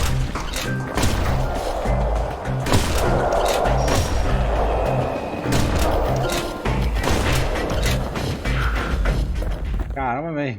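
Rapid gunfire and booming blasts from the action RPG video game Bastion, dense and loud over steady game music, with repeated sharp shots and a few heavier thumps.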